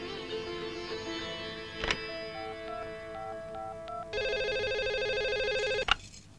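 An old-style telephone rings in a Bhojpuri film scene: a steady electronic ringtone with sustained tones that switches partway to a brighter, faster trilling ring, with a few sharp clicks, alone and fairly loud.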